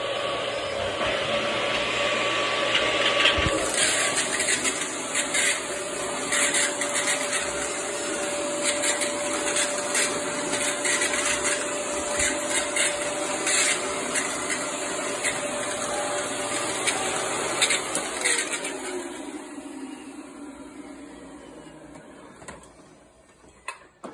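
Black & Decker HEPA 1400 watt bagless cyclonic canister vacuum with a turbo brush, giving a loud steady motor whine with a whirring brush and clattering pickup, running continuously before winding down near the end.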